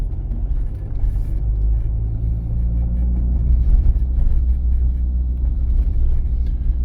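A car driving straight along a driving test route in Ivano-Frankivsk, with a steady loud low engine and road rumble heard from inside the cabin, constant throughout, no voices.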